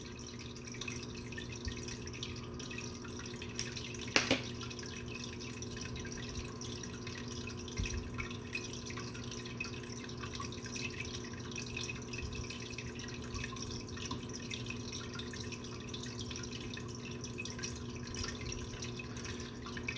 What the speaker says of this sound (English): The water that you hear in the background is a fish tank